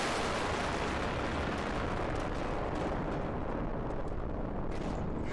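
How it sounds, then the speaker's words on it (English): A thermonuclear explosion in the People Playground video game roars as a dense, loud, continuous blast of rumbling noise that barely fades over several seconds, with no voices. "We'll just use another thermonuclear explosion."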